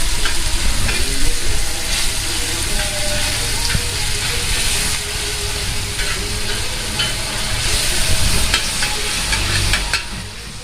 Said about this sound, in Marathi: तेल चांगलं तापलंय हे बारीक मिश्रण आहे ते हात सोडायचं ते चांगलं परतून घ्यायचं